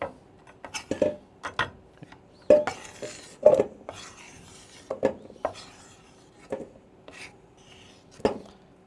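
Whole avocados are set into a kitchen bowl one after another, making a series of soft knocks and clunks at irregular intervals over a faint steady hum, with quiet gaps between them.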